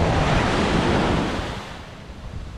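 Small ocean waves break in shallow water on a windy, cold beach. A loud washing surge of surf and wind noise fades steadily as the wave recedes, with no voices.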